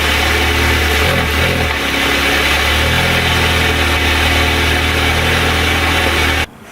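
A Volkswagen MK7 GTI engine idles steadily after a charge pipe install, a close, even mid-pitched hum with a slight dip early on and a brief abrupt change at the very end.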